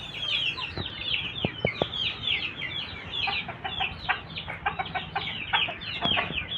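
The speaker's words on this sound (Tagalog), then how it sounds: "tignan nyo naman yung mga manok natin. Ayan sila." Hens and roosters clucking in a backyard coop during breeding season, a steady chorus of overlapping clucks and chatter from several birds at close to moderate distance, with a few sharper calls standing out and no talking.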